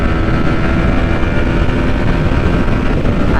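A motorcycle with a quick shifter accelerating hard through upshifts to sixth gear, heard as a loud, dense, close-up engine roar with strong wind rush and no pauses.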